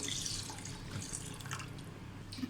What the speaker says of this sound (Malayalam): ഇപ്പോഴത്തെ തിളച്ചുകൊണ്ടിരിക്കുന്ന വെള്ളം ഞാൻ ഇതിലോട്ട് ഒഴിച്ചു കൊടുക്കുകയാണ്